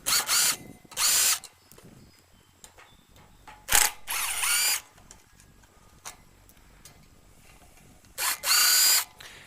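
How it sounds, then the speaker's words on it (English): A power drill backs out screws from the sleeve of a patio heater in a run of short, loud, close whirring bursts separated by quiet pauses, with faint ticking between them. "we're going to remove the 8 screws that hold the sleeve to the post and to the heater head itself."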